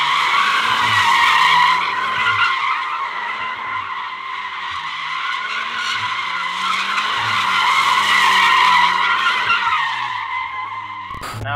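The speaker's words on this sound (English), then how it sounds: "one of the other reasons you want the Golf R is because of a little thing called drift mode" Volkswagen Golf R tires squealing and skidding continuously in drift mode, a loud sustained screech over engine drone, ending with a sharp burst.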